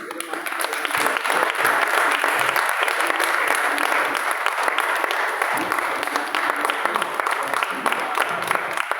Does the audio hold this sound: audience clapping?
yes